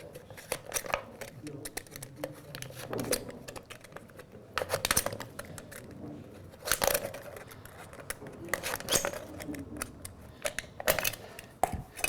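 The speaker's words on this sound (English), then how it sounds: "I'm using a different pair tonight" Scissors snip through thin soda-can aluminum in sharp, irregular crunchy cuts, with crinkling between strokes and a voice talking quietly at times.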